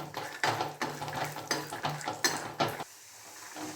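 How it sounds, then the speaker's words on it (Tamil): Peanuts roasting in oil in a pan for sundal, stirred with quick repeated scrapes and rattles over a low sizzle, several strokes then a sudden drop to quiet near the end. "இந்த வேர்க்கடலையை அப்படியே போட்டு வறுக்கலாம் எண்ணெயோடையே"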